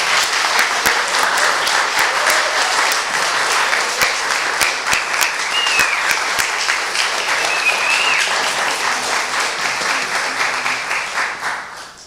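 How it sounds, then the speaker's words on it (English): Applause from a concert audience at a summer music celebration, a long run of many hands with sharp individual claps standing out and a few faint cheers, tapering off at the end. "that's probably the most applause I've gotten as a bass player"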